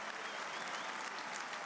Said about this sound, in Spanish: Todos estos aplausos son para el Chacho Coudet cuando es nombrado por la voz del estadio